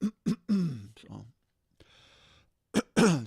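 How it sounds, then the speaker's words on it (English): A presenter on a live morning broadcast clears their throat in short, close, rough bursts, followed by vocal sounds and a faint pause of low background noise. "Clear my throat."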